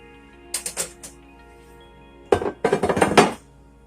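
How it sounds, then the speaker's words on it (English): Dishes clatter and clink as a baking dish is pulled out from among stacked cookware in a kitchen, with a few short knocks and then a busier burst of rattling. "I need to get my baking dish."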